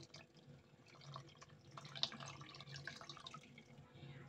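Cold water is poured over cooked sago pearls in a kitchen for a mango sago dessert: a soft, continuous splashing and trickling stream with small dripping spatters, fairly quiet and close, with no talking.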